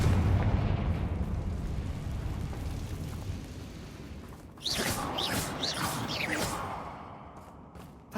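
A Confringo fire spell in Hogwarts Legacy detonates with a broad rumbling boom that rolls and fades over several seconds, followed by a second burst of crackling, fizzing fire and debris close by.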